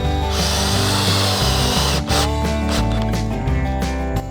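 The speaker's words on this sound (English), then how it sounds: "And we are screwing these ends together." A power drill drives screws into wood while building a garden bed for fall planting, the motor whining loudly and changing pitch in bursts as each screw bites, close and steady with no talk.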